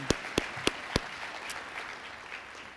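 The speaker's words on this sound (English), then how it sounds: "one more round of applause for them" A handful of sharp, isolated hand claps ring out at a lunch gathering for Texas Venture Labs. Four distinct claps come in quick succession, then fade to a quiet room, all faint and somewhat distant.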